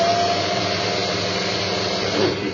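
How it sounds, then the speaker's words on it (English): A Tyco slot car Porsche 935 motor spins on a dyno with a steady, buzzing whine that holds constant and close, a dense electric drone with no talk over it. "Let's put this bad boy on the dyno and see how she does."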